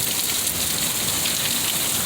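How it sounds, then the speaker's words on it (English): Heavy summer rain pours down in Utah, a dense, loud, continuous hiss of drops hitting surfaces with no pauses or voices. "And we got a real rainstorm."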